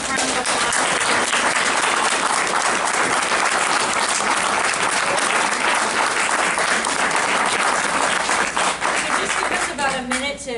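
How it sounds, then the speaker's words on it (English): A brief burst of dense applause from an audience at a candidates forum in Peekskill's Field Library, loud and sustained clapping that tapers off near the end. "let's give just a real brief round of applause"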